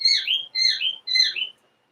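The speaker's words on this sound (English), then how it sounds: "Now the birds are going to start." Birds chirping outdoors in three quick, bright bursts of high twittering calls, each phrase about half a second long with short gaps between, fairly close and clear against a quiet background, with no talking.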